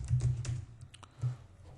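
Several quick, soft keystrokes tap on a computer keyboard, typing a short word in a brief rhythmic burst, close and quiet, with a pause before a final key press.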